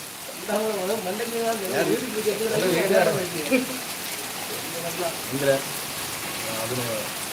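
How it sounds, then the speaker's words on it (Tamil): Steady rain patters and hisses throughout in Kanyakumari while people talk over it, their voices rising and fading in the foreground. "நல்ல மழை"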